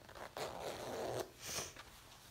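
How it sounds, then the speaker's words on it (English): A zipper on a bunnyhug-style jacket is drawn up in a couple of quick rasping pulls, close by and quiet, with no speech. "So I'm just going to do my zipper up to make sure that I'm happy with the positioning of it."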